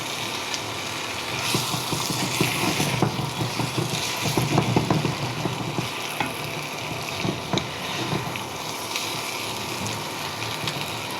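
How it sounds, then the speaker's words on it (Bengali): Rohu fish pieces fry with spices and chopped onions in a pan, a loud, steady sizzle with intermittent scraping and stirring clatter. No one speaks over it. "দেখুন, মাছগুলো ভাজা হয়ে গিয়েছে মশলার সাথে।"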